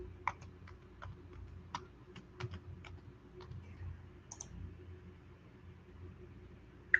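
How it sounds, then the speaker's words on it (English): Faint typing on a computer keyboard during a live trading stream: scattered, irregular clicks and taps, some in quick bursts, over a quiet background hum. "Am I typing it too fast?"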